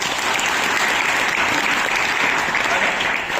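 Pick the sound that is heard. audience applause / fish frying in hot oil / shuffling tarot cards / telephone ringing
audience applause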